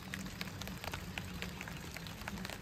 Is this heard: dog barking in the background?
no